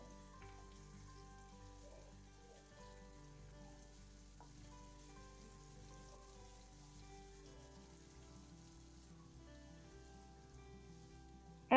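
Onion frying in a pan with garlic and cumin paste just added, a faint, steady low sizzle that runs unbroken for the whole stretch, soft and distant, with no voices.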